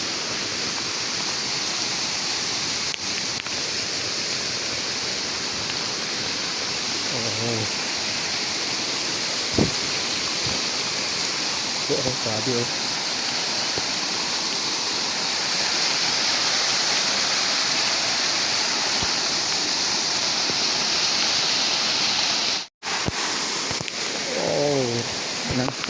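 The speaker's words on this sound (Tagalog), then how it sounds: "may malaking falls na rin na nagkagawa dahil sa sobrang lakas ng ulan" Heavy rain pours in a steady dense roar, with floodwater from canals and creeks cascading down like a waterfall close by; a voice speaks briefly a few times over the constant rushing water.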